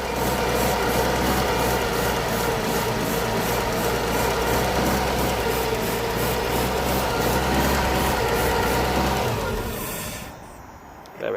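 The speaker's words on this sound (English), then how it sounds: "I can keep the engine running" A 1.6 Vauxhall/Opel Astra H petrol engine, with a crank no-start fault, runs roughly on starting fluid, a loud, close, steady rattling idle that fades out near the end.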